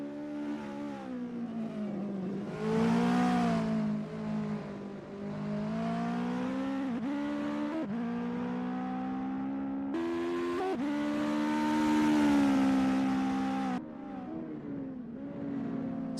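US Legend race cars lap VIR Grand West in sim racing, engines droning and revving with rising and falling pitch as cars pass near and fade.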